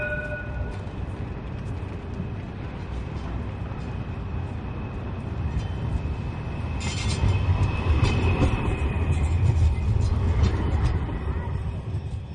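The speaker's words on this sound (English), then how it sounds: "Righto, I'm going to get the tram in pan so I'll get you in the end of it." A tram rolls along a Sydney street, a steady low rumble of wheels on rail that swells as it passes close by, with faint squeals and street noise around it.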